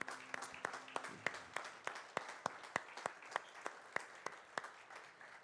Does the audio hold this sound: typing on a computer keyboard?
no